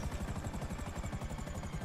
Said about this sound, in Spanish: Llegamos en helicóptero.